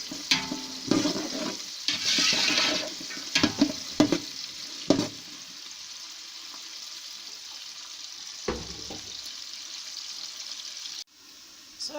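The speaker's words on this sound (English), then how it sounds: "So here you can see that the green peas is steaming." Green peas steaming in a pot for party fried rice, with bursts of hissing steam and sizzle in the first few seconds, scraping stirs, then a quieter steady simmer and one more clatter near the end.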